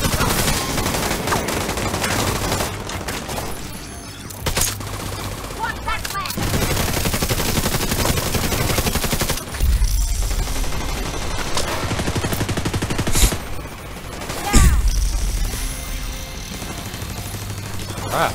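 Shotgun fire and other gunfire in the video game The Division 2, loud bursts and heavy blasts over a dense, constant layer of combat noise.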